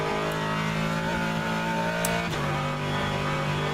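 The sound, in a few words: Corvette race car engine roaring in video game rFactor 2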